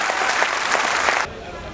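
A kavi sammelan audience at Delhi's Lal Qila breaks into loud, dense applause that stops abruptly partway through, leaving a softer room murmur.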